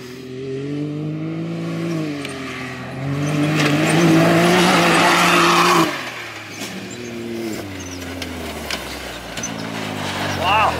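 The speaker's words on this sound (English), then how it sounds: "the car coming around the dozer just in the berm looks super cool" An off-road car, an X3 or YXZ, races around a dozer and dirt berm on a test track, its engine revving and shifting pitch at close to middling distance while people talk over it.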